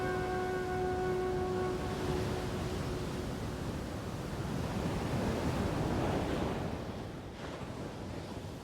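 Storm winds and heavy ocean surf batter Christmas Island, a steady broadband roar of crashing water and gusting wind, loud and continuous with no voices.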